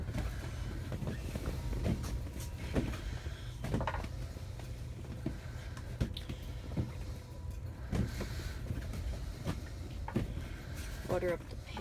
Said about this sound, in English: Okay, well if you can hear that, it's just windy right now.